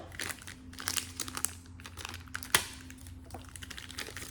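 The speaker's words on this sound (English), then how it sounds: "The plastic is like fused together. Well, we're not gonna get a good rip on that one." A fused plastic wrapper on a Pop Mart blind box is torn and crinkled open, with faint scattered rustling, small crackles and one sharper rip partway through, with no talking.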